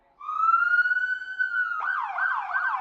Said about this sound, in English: Oh, and he has a siren.